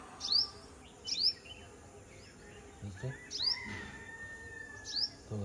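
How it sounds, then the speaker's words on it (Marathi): Sunbird in a village garden near Malvan giving short, high chirping calls, about four bright bursts spaced roughly a second apart, near and clear over quiet morning background with faint other birds. "आणि इकडे बघा सनबर्ड आला."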